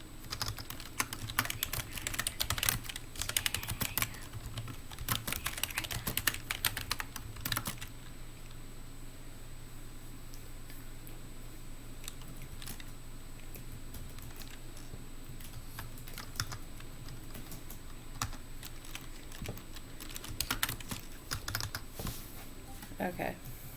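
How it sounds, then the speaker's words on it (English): Fingers type on a computer keyboard in bursts of rapid clicking, pausing for long stretches, with a steady hum underneath. "I hope the typing is not too loud on the recording."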